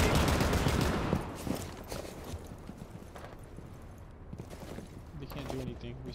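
Gunfire from a round of Rainbow Six Siege: a dense burst of rapid shots up front, then scattered pops and clatter at a moderate distance under game noise.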